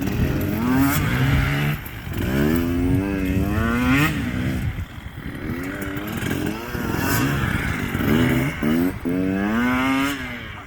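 Two-stroke motorcycles race in a pylon race, their buzzing engines rising and falling in repeated revving sweeps, loud and close throughout with overlapping machines passing.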